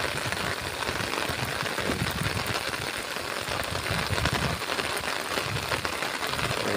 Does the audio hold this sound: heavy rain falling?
yes